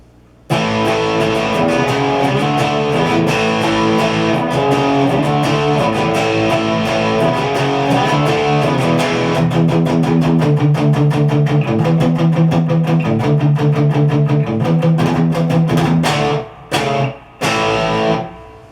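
A distorted electric guitar plays a repeating riff with steady chugging rhythm, loud and continuous, ending with a few abrupt stops near the end.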